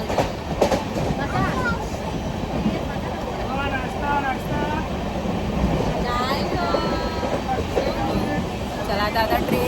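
Steady rumble and rattle inside a moving passenger train in India, with rhythmic clatter throughout and people chatting nearby under the continuous rolling noise.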